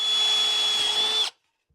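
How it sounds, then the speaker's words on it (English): A power drill runs steadily for just over a second while pre-drilling screw holes, a loud close whine with an even pitch that cuts off abruptly, followed by near silence. "do a little bit of pre-drilling"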